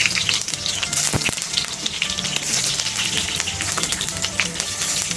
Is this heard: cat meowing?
no